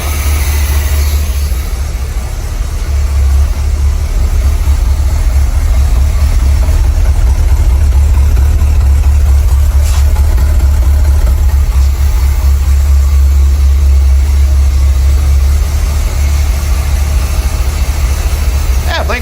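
A 1975 Chevy C3 Corvette, just restarted after sitting for 15 years, idles steadily up close, a loud continuous low rumble with a constant hum that holds for the whole stretch.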